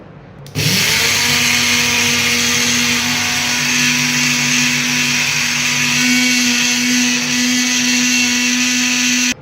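A mixer grinder jar whirs steadily as it grinds roasted seeds and oats into powder, starting abruptly and holding a loud, even motor drone with a high buzzing whine throughout, no voices over it.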